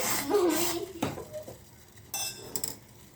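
Ginger, cardamom and a small piece of cinnamon stirred in a cooking pot for tea, with a spoon scraping and clinking against the metal in short, uneven strokes, close and fairly loud.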